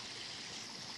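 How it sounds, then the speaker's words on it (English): Water trickles steadily in a small backyard pond on a residential property, a continuous broadband splashing wash held at an even, close level with no talk. "It's a nice little pond this guy has on his property."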